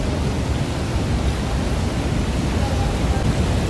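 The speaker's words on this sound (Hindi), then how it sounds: "बहुत तेज आवाज आ रही है वाटरफॉल की, ऊपर ही झरना है" A loud waterfall near Pokhara, Nepal roars in a constant, dense rush of falling water, close and overwhelming, with no voices heard above it.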